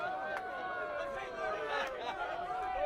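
Home crowd at a U23 soccer match in the northeast US, Excelsior NY against Met Oval, murmurs and grumbles in a steady, moderately distant wash of chatter, with a few brief tonal calls rising out of the crowd.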